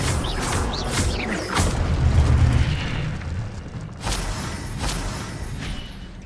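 Incendio fire spell cast in Hogwarts Legacy, a loud, close whooshing burst of flame with a booming rumble that swells and fades, followed by a second lighter whoosh.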